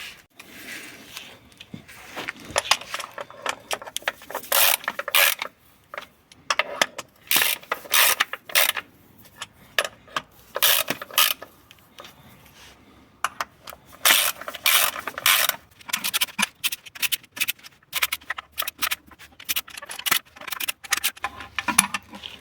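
Ratchet wrench turning oil sump bolts on an Alfa Romeo engine: bursts of rapid clicking from the pawl, stopping and starting irregularly with short pauses between bolts, close and clear.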